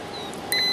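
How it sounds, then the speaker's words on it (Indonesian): A DT-92 multimeter's continuity buzzer lets out a short, high electronic beep that starts abruptly and holds steady, close and clear, with no talking. "Ya, ada buzzernya sobat."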